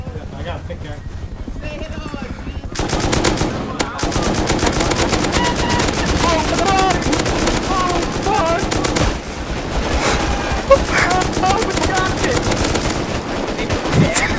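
Dense automatic and rapid gunfire from a Rust match, players shooting at a helicopter, rattles on loud and continuous in sustained bursts after a quieter opening stretch, with voices talking over it.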